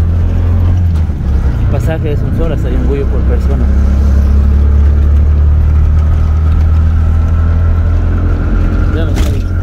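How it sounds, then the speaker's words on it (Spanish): A motorcycle taxi carries riders toward Yunguyo on the Bolivia–Peru border road, its engine a loud, steady close drone throughout as someone talks over it. "Ya hemos tomado una moto que nos está llevando hasta Yunguyo."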